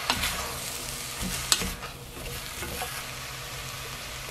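Spam and zucchini with minced garlic and a splash of water are stirred in a pot, making a continuous close sizzle with soft scraping and a brief clink, with no voices.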